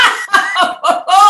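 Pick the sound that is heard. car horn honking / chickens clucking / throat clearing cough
throat clearing cough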